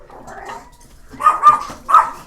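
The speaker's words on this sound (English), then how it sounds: "We hear a dog outside barking at our dog or something." A dog barks outdoors several times, likely at another dog, with sharp yips rising after a quieter stretch, fairly close and clear with no talking.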